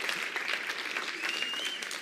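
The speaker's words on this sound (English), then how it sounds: "You can do the clapping again." Audience applause at a smartphone launch event for a new phone series, a steady wash of clapping from a large hall, fairly faint and even throughout with no other sounds.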